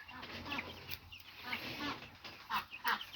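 Young chicks, newly let out of a rabbit hutch, scratch under a fence on damp farmyard ground, giving soft, scattered peeps and clucks close by over faint outdoor background noise.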